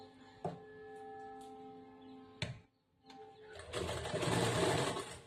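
Sewing machine stitching the shoulder of a princess-cut blouse: short mechanical whirring bursts with clicks, then a longer, louder steady run of stitching near the end.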